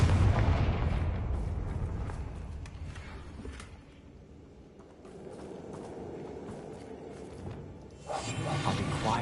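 Confringo fire spell blasts in Hogwarts Legacy, heavy booming explosions and whooshes at the start, a quieter rumbling stretch in the middle, then another loud blast surging near the end, close and forceful with no talk.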